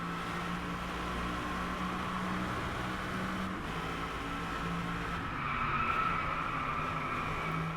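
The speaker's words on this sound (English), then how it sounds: "Now this thing has V8 engine and is producing 620 horsepower." A Mercedes SLS AMG Black with a 620-horsepower V8 races on a Japan track in Driveclub, its engine a steady droning roar with shifting pitch and faint tire noise, alone and fairly quiet.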